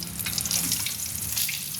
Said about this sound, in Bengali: আমি একটা একটা করেই ভাজছি